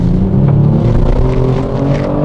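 Kia Stinger 3.3-litre twin-turbo direct-injection V6 accelerating, a loud, steady low engine rumble with a sustained droning tone and no talk over it.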